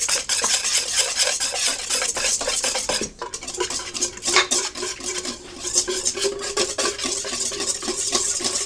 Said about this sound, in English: Go with a 1/2 cup of sour cream. Go ahead and stir that stuff around.